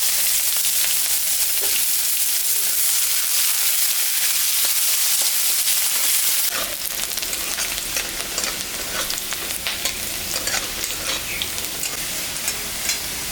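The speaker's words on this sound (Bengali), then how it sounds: "পেঁয়াজটা ভাজা ভাজা হয়ে গেছে" Onion frying in hot oil with cumin and dried red chili tempering for a fish curry, giving a loud, steady close-up sizzle that turns more crackly and uneven midway as the pan is stirred.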